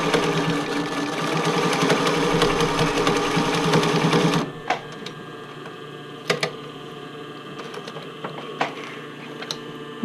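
A sewing machine stitches elastic onto a bra fitting band in contrasting thread, running in a fast continuous whir for about four seconds before stopping abruptly, followed by sparse, sharp clicks and handling taps.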